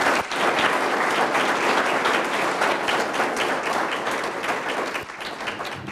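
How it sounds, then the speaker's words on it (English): Sustained, enthusiastic applause from a large crowd at a board meeting, dense clapping that holds steady and then tapers slightly at the end. "please give these amazing students another round of applause"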